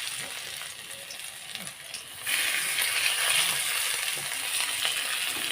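Patties fry in a pan with a steady, bright hiss and crackle that grows louder and denser partway through, close and continuous with no talk.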